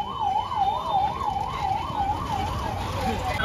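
An ambulance siren wails in a steady, rapid rise-and-fall cycle at a crowded dargah during the Urs gathering in Bareilly, over a busy crowd and traffic background.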